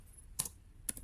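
Typing on a computer keyboard while entering a file name in a Red Hat terminal: two quick, crisp key clicks about half a second apart, close and fairly quiet over near silence.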